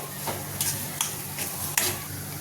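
Bread pakoda batter being mixed in a bowl, a few soft scraping and tapping spoon strokes over a low background hiss, close and short, no talking.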